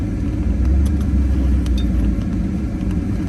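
A vehicle rumbles close by with a steady, loud engine drone and low road noise as it pulls up to park, holding a constant level throughout without any voices.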